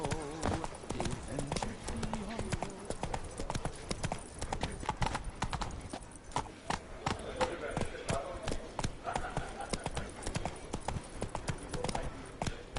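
Roach, the horse in The Witcher 3 video game, gallops with rapid, steady clip-clop hoofbeats, loud and close, under background game music and ambient voices.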